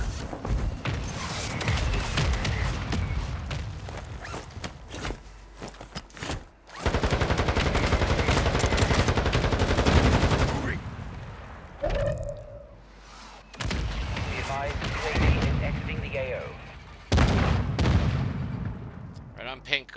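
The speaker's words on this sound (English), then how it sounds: "Hostile mortar strike incoming." Mortar strike explosions and gunfire in a Call of Duty match, with heavy booming blasts and rattling shots in repeated loud bursts separated by short lulls, and a player talking over parts of it.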